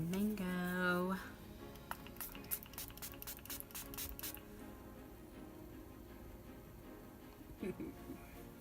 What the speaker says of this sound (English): I'm gonna go ahead and set that mess just now with my Gerard Cosmetics Slay All Day Setting Spray and Mango.